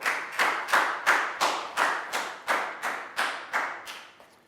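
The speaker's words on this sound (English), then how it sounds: "High five and a big round of applause for Prao." A primary school class claps together in a slow, steady rhythm, about a dozen loud, even claps in unison.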